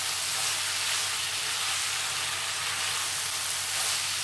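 Cooked rice stir-fries with chicken, vegetables and soy sauce in a pan for restaurant-style chicken fried rice, making a constant loud hissing sizzle that runs unbroken and close throughout.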